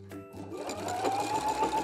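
A sewing machine runs a short, steady stitching burst along the edge of a dress, under nearby hum. The rapid mechanical whir is close and moderately loud.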